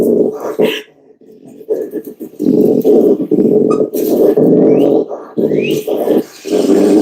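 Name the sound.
raccoon barking and growling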